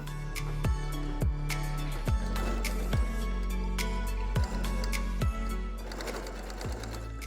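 A sewing machine stitches a fabric heart, running in steady bursts with a strong low motor hum and regular needle thumps, close and loud, with brief pauses between runs.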